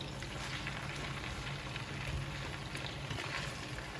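Potatoes and onion fry in a pan with a steady, dense sizzle, stirred throughout, for a Spanish tortilla de patata; continuous and close with no voices.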